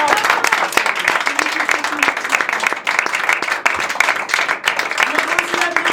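Sustained applause and clapping from an audience at a stand-up comedy show at the Comic Hall in Paris, a dense steady wash of hands throughout with no pauses.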